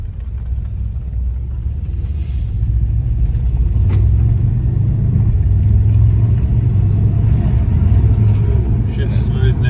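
A Mercedes C63s AMG under way after a rebuild, giving off a low, continuous engine rumble that swells slightly as it pulls, with muffled voices inside the cabin over the drone.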